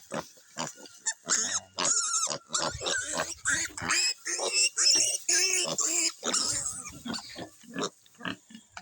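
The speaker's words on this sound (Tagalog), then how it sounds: "Nandito yung baboy naming bansot na pinakawalan po namin para sa labas na lang siya kumain sa damo-damo" A stunted pig let loose outdoors to graze on grass grunts and snorts in rapid, close bursts, loud and continuous with brief pauses between clusters.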